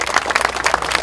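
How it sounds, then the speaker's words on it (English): At a university pep rally, a crowd claps briefly in a loose, ragged burst of many hands, close and fairly loud, with no voices over it. "So you can clap on that"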